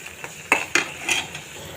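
A utensil stirs green beans with chopped onion, green chilies and shrimp in a frying pan, making a few sharp metallic scrapes and clinks over a faint sizzle.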